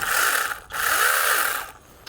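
The oil pump button on an IMOUM 21V electric chainsaw is pressed, giving a bright mechanical whirring rasp in two sustained bursts with a short break, close and fairly loud, ending in a faint click.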